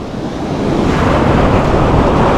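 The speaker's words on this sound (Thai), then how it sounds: "คลื่นมันแรงด้วยแหละ" Strong waves crash and roar continuously at a river mouth, a loud, dense surf wash mixed with wind buffeting the microphone, with no talking.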